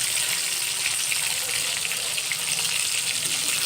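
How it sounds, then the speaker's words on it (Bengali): Fish frying crisply in a small amount of oil while being pressed down in the pan, a dense, even hiss of sizzling oil, close and continuous with no pauses. "মাছগুলো খুব মুচমুচে করে ভাজা হবে, তো এই জন্য একটু চেপে চেপে দিলে তাড়াতাড়ি হয়ে যাবে।"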